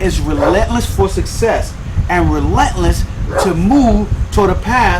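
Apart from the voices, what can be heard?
dog barking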